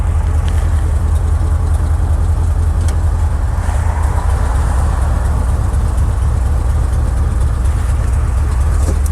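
A Chevrolet C10 pickup truck engine idling, a steady low rumble heard from inside the cab with faint mechanical ticks above it, constant and uninterrupted.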